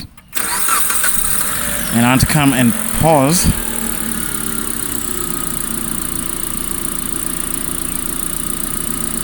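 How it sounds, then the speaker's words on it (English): A Mitsubishi GDI car engine cranks with a few rhythmic starter whirs, catches and settles into a steady idle, close and fairly loud, with someone talking briefly. "So let me just reach in the car, start it"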